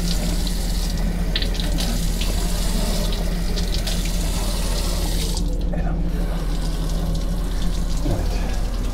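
Water pours steadily from a healing-water fountain tap at a historic site in Şanlıurfa, a loud, constant close-up splashing rush that lasts throughout.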